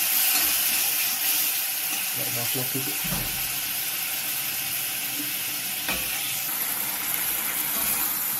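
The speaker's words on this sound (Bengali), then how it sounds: "এবার একটুখানি আমি জল দিয়ে দেবো, অল্প জল দেবো।" Masala frying in a pan in a home kitchen hisses steadily as a little water goes in, with a brief louder burst of sizzle partway and someone talking over it.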